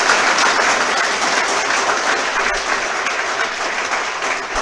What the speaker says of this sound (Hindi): हम हमारी तरफ से जोरदार ताली बजाते हैं इसके लिए